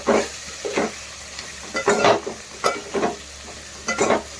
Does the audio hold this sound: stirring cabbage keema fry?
yes